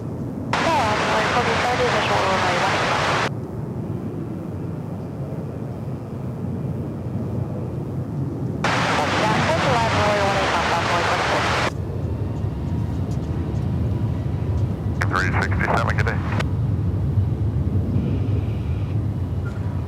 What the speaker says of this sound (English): American 974 is cleared for takeoff. It's an Airbus A321neo.